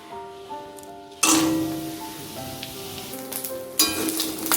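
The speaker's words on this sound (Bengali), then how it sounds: "বড়িগুলো ভেজে তুলে রাখবো।" Homemade bori lentil dumplings drop into hot oil, a loud sizzle bursting in after a quiet start and crackling steadily, with a second surge of frying near the end.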